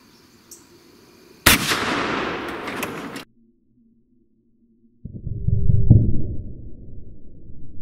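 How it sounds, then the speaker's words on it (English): A muzzleloader rifle fires one loud, sharp report with a long ringing decay that cuts off abruptly, followed after a pause by a dull, rumbling burst of sound. "we're gonna fire one down range"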